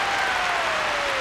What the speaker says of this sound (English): The crowd roar and punch the air.